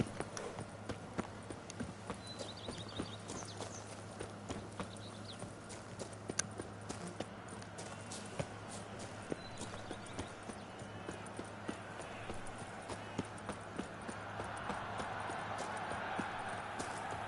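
A horse's hooves clip-clop at a steady walking pace, with faint ambient sounds, in the video game The Witcher 3: Wild Hunt – Blood and Wine.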